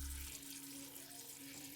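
Cold tap water runs into a pot of sliced orange peels, a faint steady gushing stream with a low ringing tone from the filling pot, alone and close.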